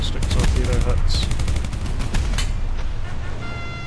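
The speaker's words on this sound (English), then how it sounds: "so taking 2 acoustic torpedo hits" Acoustic torpedoes strike in a naval video game with heavy, rumbling detonations and crackling, bursting impacts, loud and near, then a thin tonal hum, with faint talk underneath.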